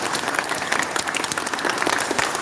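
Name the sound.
audience applause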